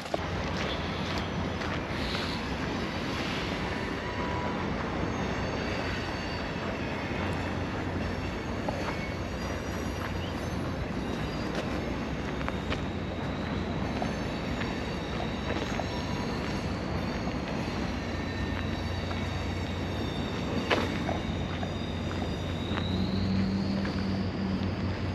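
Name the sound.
Via Rail Canadian passenger train at Jasper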